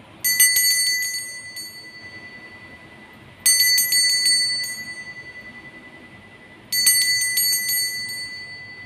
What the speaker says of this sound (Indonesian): kita akan lanjutkan dengan lonceng berbunyi